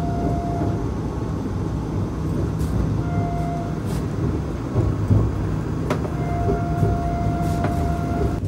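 Vande Bharat Express pulling out of Mavli Junction, a steady loud rumble of the moving train heard from inside the coach, with faint rattles and brief tonal whines rising over the constant noise.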